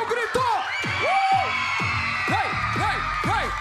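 A television studio audience at a live variety show shouts and whoops in rising, arcing yells that come in rapid overlapping bursts, loud and close, filling the whole stretch.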